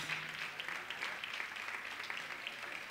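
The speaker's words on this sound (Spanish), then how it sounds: "Así que le damos una bienvenida, un aplauso." A church congregation claps to welcome visitors from Colombia, producing a soft, even patter of applause that continues for about three seconds and sounds distant and roomy.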